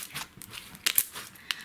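Homemade fluffy slime crackling and crunching as it is stretched by hand, a run of soft crinkly snaps with a few sharper pops, close and quiet.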